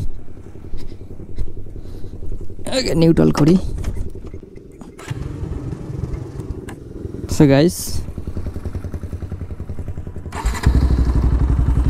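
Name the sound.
Bajaj Pulsar 220F motorcycle engine with Akrapovic exhaust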